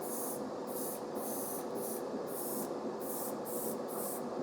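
An airbrush set to 15 PSI sprays chrome paint onto model car wheels, giving a steady close hiss with repeated short bursts of spray, alone without talk.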